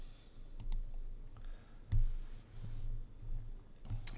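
Computer mouse clicks while working in Maya: a handful of sharp, isolated clicks spaced irregularly over steady low room hum, close and fairly quiet.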